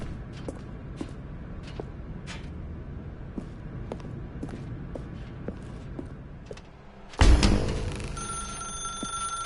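In The Stanley Parable video game, a telephone bell starts ringing suddenly and loudly after a stretch of soft clicking room tone, then rings on steadily.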